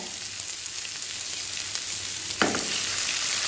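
Small tomato pieces dropping into chilli chicken frying in a pan, giving a continuous hissing sizzle with a sharper crackling burst as they hit the hot oil.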